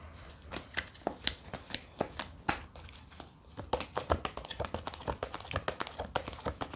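Tarot cards being shuffled by hand: a quick run of crisp riffling taps and flicks, close and clear, pausing briefly midway before picking up again, with no one talking.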